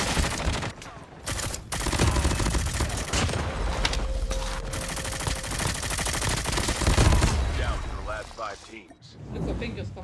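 Rapid bursts of automatic gunfire and single shots rattle through a Call of Duty match, loud and dense, with short pauses between volleys and a voice talking over parts of it.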